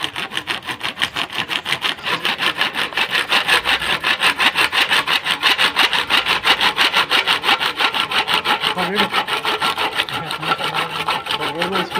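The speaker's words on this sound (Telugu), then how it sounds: "నేను ఇక్కడ 13 ఇంచెస్ సంబంధించిన పైప్ని అయితే మార్కింగ్ చేసుకుని ఇక్కడ కటింగ్ అయితే" Steady, fast back-and-forth rasping of a hand saw cutting through a plastic water pipe, measured to 13 inches, loud and close, continuous strokes throughout with no talk.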